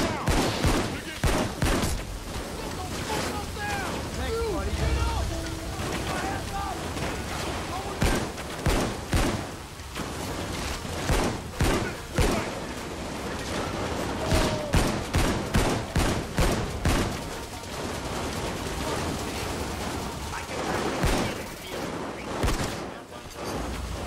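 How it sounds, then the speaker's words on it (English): Rapid gunfire bursts from Payday 2, shotgun and automatic weapons crackling in repeated volleys through a firefight, close and loud, with players talking over the shooting. "the problem is someone there is shooting at me"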